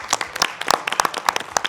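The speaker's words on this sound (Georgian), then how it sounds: "ძალიან დიდი აპლოდისმენტები თუ შეიძლება ამით" An audience claps and applauds briefly on a Georgian entertainment show, a dense, close burst of scattered hand claps lasting under two seconds with no talk over it.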